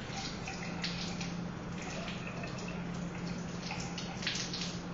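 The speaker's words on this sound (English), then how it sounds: "Then hold it and rinse it off under the water." Tap water runs steadily over a Gram-stained glass slide held under the stream, a continuous, even splashing hiss that stays close and moderately loud from start to finish.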